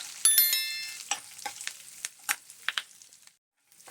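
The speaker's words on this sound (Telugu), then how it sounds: "చూడండి ఇలా దోరగా వేయించుకోవాలండి" A tempering sizzles in a pan for rava pulihora, giving close, crisp crackles and pops that come in scattered bursts, then fade to near silence before a faint return.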